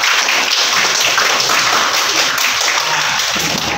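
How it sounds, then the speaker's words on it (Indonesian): Applause in a classroom during a lesson on Quranic surahs, a continuous, loud, even patter of many hands clapping together, with no break. "ya, tepuk tangan untuk kita semua."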